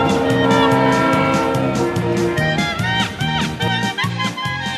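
A train rolls along with a rhythmic clickety-clack of wheels over rail joints, while a loud, sustained horn sounds over it, close and prominent throughout.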